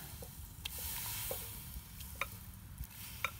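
Onions being stirred in a pan with a traditional cooking method, giving a steady low scraping, sizzling texture broken by a few sharp clinks and ticks of the utensil against the pan.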